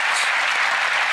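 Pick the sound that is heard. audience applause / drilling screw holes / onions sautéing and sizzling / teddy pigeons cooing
audience applause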